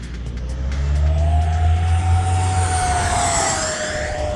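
An FMS Futura 80mm v3 RC electric ducted-fan jet sweeps past as a loud, steady turbine-like whine that rises and then falls, with a strong low rumble underneath, heard close and with no talking.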